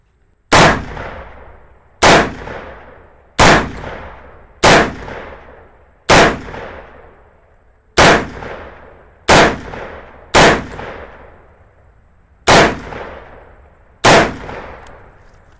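Ten rifle shots fired with a red dot sight at 27 yards, loud sharp cracks spaced roughly one to two seconds apart, each trailing off in a brief echoing decay.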